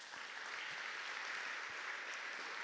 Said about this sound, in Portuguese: Eu queria que você aplaudisse, Senhor, por isso.